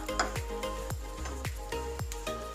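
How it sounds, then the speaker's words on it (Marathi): Grated coconut roasting in a heated kadhai, sizzling as a spatula scrapes and stirs it in regular strokes about twice a second, close and fairly quiet, with no talk. "या ठिकाणी आपण कढई थोडीशी गरम करायला ठेवलेली आहे आणि त्यामध्ये आपण हे जे खोबरं आहे ते आधी"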